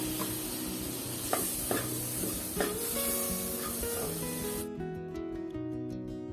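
Finely chopped medium tomato with spice powder sautés in a pan for tapioca beef biryani, giving a soft sizzle and stirring scrapes under light background music.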